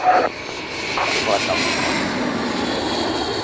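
Aircraft engine of an airplane coming in to land, a steady loud rumble and whine sustained throughout, with a radio voice over it at the start.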